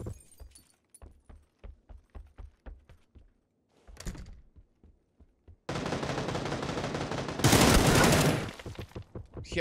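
Gunfire in PUBG: a string of evenly spaced close single shots, then a pause and a sustained loud burst of firing with a harsh, dense roar that swells near the end.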